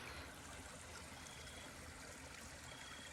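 Stream water flowing around a curve and sinking into the earth, a faint, steady trickling wash with no voices.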